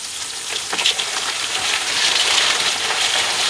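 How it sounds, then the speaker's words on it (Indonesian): Chopped curly red and green chilies fry in hot oil over high flame, giving a steady, bright sizzle throughout with faint stirring. "goreng sebentar dengan minyak panas dan menggunakan api besar hingga cabai layu dan kokoh."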